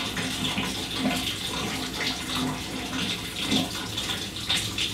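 Steady broadband rush of running shower water, close and continuous, with faint splashing variations and no talking.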